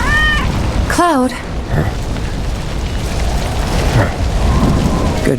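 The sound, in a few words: cat meowing in rain, video game Final Fantasy VII Remake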